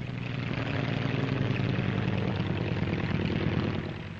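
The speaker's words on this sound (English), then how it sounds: "Here's the Bristol 173, or rotor coach, with twin engines." A twin-engine Bristol Type 173 helicopter, the rotor coach, flies within a small enclosed space, giving off a steady, loud, continuous engine-and-rotor drone that holds even throughout.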